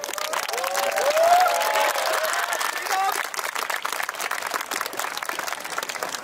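A crowd at the 2018 Shonan Yosakoi festival applauds and cheers for a Waseda University dance team, a dense wash of clapping that swells early and then settles into steady applause, with voices over it.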